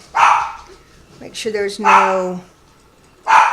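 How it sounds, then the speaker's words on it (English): A Morkie dog lets out a few loud, close barks in separate bursts, while a person speaks briefly between them. "Yes, I have a barking dog."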